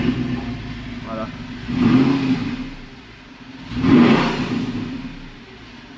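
A car engine in a racing game, driven with a carbon-trimmed LED performance sim steering wheel, revs up in two rising swells a couple of seconds apart, under someone talking.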